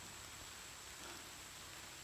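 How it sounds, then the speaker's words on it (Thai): Evening rain falls steadily outdoors in a hilly area, a faint, even hiss of many drops throughout, with no voices over it. "สุดยอดฝนตก แล้วครับเย็นนี้"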